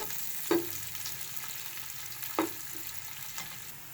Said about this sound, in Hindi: इनको हम गोल्डन ब्राउन करेंगे, गोल्डन फ्राई करेंगे।